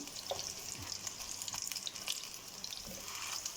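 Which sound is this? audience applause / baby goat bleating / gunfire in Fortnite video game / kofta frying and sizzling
kofta frying and sizzling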